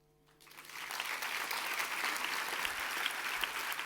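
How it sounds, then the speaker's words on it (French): After a brief quiet moment, applause from the audience at a doctoral graduation ceremony bursts in, honoring families and friends, and holds as thick, even clapping from a large crowd. "je vous propose d'abord de les applaudir"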